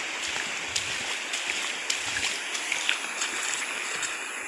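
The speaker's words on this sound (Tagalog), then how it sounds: "Naririnig yung mga idol. Sapa yan." A small stream flows steadily at dusk, giving a soft, continuous wash with faint trickles and light splashes, fairly quiet and close by.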